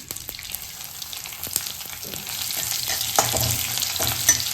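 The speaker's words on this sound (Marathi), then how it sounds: "तर त्यानंतर आपण टाकतोय त्यात लसूण." Garlic and curry leaves fry in a pan of oil while okra bhaji is made, giving a close, steady sizzle that grows denser toward the end, broken by scraping stirs and a few small clinks, with no talking.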